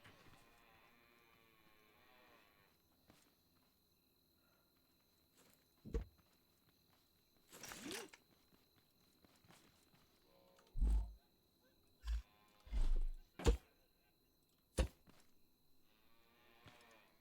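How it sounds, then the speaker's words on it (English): Cows in the Scrap Mechanic video game give out several loud, drawn-out moos that come in separate bursts between quiet stretches, with a few sharp mechanical clanks mixed in. "Do those cows ever shut up mooing?"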